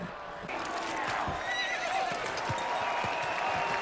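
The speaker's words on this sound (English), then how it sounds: "Going for the horse." A horse in a fantasy TV drama neighs shrilly up close while hooves clatter underneath and people speak over it.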